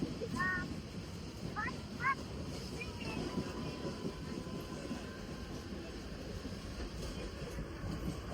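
A train on a journey to Mumbai gives a faint, steady low rumble of rail travel, with a few brief high chirps early on.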